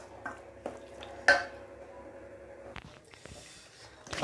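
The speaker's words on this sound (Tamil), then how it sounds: "நல்லாவே கொதிக்குது" Drumstick masala curry bubbles in a pot on the stove, a soft, steady simmer with scattered pops and a few light clinks of a utensil against the vessel, close by, with no talking.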